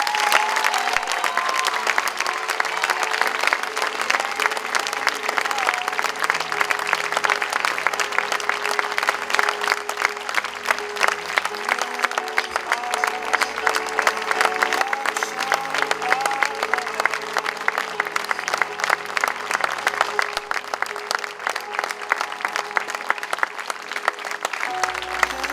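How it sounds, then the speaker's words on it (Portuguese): An audience at a dance recital applauds: steady, dense clapping from a large crowd that holds at a constant level for the whole stretch, with faint cheering mixed in. "Agora peço uma grande salva de palmas muito especial"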